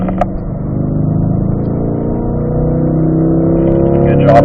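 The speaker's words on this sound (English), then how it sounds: "Now you can throttle out." A race car accelerating out of a corner on a track, its engine droning steadily and rising in pitch under throttle, heard from inside the cockpit, loud and continuous.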